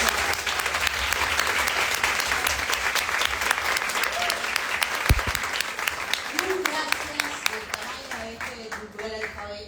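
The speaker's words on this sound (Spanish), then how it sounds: "Vamos a bienvenirla con un fuerte aplauso." An audience in Montevideo gives a loud, sustained round of applause to welcome an author at a talk on feminist motherhood. The clapping thins out near the end as a voice begins speaking.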